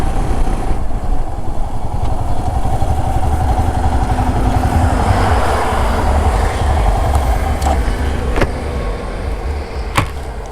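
A Royal Enfield Himalayan BS6 motorcycle ridden on a curvy ghat road, its engine droning loud and close with steady wind rush and a few sharp clicks near the end.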